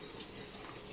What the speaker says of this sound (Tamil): ஆஃப் பண்ணு தண்ணி ஆஃப் பண்ணு